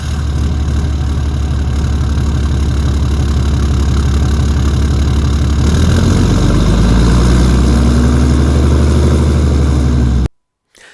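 A Ram 2500 pickup engine fitted with a Banks Ram Air intake idles steadily up close, a loud, deep continuous rumble that shifts slightly in tone partway through before cutting off abruptly near the end.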